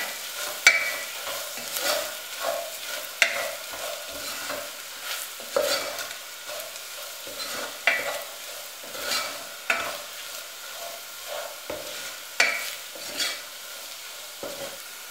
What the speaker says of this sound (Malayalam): കുറച്ച് ഉപ്പും കൂടെ ചേർത്ത് നമുക്ക് നന്നായിട്ടൊന്ന് ഇളക്കാം. ഇത് പച്ചമണം മാറുന്നത് വരെ വഴറ്റാം.